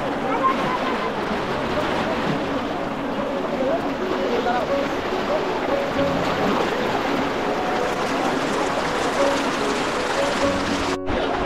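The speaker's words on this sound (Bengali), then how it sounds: "স্থিরভাবে থাকার মতো পানি না, এত স্রোত পানির যে স্থিরভাবে এক জায়গায় একজনে বসবে তা সম্ভব না।" Strong, fast river current at Bholaganj Sada Pathor in Sylhet, a steady broadband rush of water that stays loud and continuous throughout, with faint faraway voices or boat sounds mixed in.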